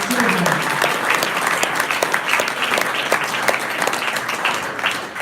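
A live audience at a PechaKucha night in Oklahoma City gives a big round of applause for the speakers, steady loud clapping throughout with faint crowd voices mixed in.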